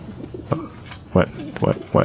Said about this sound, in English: A coop is really just a cage, but the birds don't seem to mind.